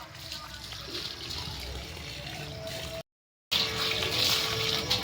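Water running and trickling near a house among garden plants, a steady hissing flow that continues with a brief silent break in the middle.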